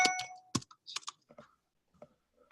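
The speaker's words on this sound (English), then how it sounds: "Typing it in again, my email address." An email address is typed on a computer keyboard, a run of close, crisp key clicks in irregular bursts, loud at first and then fading into sparser taps, with no speech.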